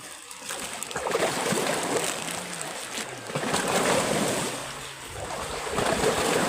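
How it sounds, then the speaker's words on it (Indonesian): Rough sea waves crash and churn steadily around a fishing boat off Repa Kelapa, stirring the water murky, with a continuous wash of surf and gusting wind buffeting the microphone and no talking. "Jadi ombak itu dia menghantam-hantam air, jadi kotor airnya."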